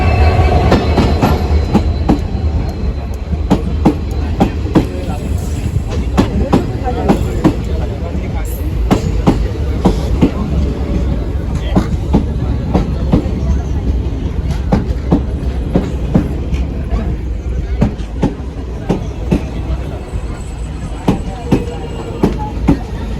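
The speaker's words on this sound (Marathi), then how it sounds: "आता आपली कोकण कन्या एक्सप्रेस फायनली गेलेली आहे वैभटी स्टेशनला" Konkan Kanya Express passenger train running past at Vaibhavwadi station in Konkan, with a steady loud rumble and rapid clickety-clack of wheels over rail joints throughout, plus some voices in the background.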